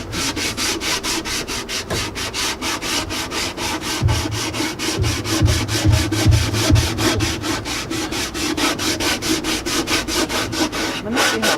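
Sandpaper is rubbed over the wood of a bread shelf in quick, steady back-and-forth strokes, close and continuous, with a few heavier low scrapes midway.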